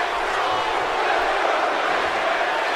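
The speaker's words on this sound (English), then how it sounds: "This is such a hot crowd here in the Impact Zone here tonight." A hot wrestling crowd cheers in the Impact Zone during a TNA tag match. A dense, steady roar holds at the same loudness throughout with no breaks.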